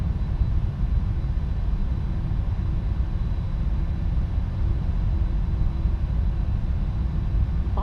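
Four engines of a PMDG Boeing 747-400F freighter in Cargolux livery roll for takeoff on the runway at Milan in a Prepar3D flight simulator, a steady, loud low rumble and roar that holds evenly throughout with no talking.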